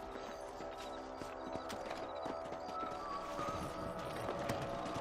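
Rhythmic clip-clop of horse hooves at a steady gallop in the video game Red Dead Redemption, with faint background ambience and no talking.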